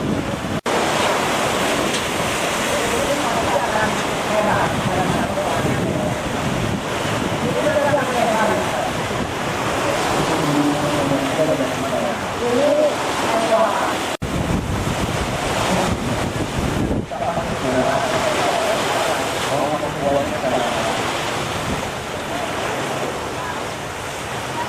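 Large waves on Lake Toba pound against a big floating stage, a constant roaring wash of water heavily mixed with gusting wind noise buffeting the microphone.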